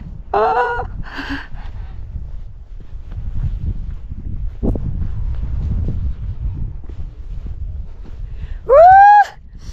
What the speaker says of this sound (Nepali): हावा लाग्छ एकदमै विन्डी चिसो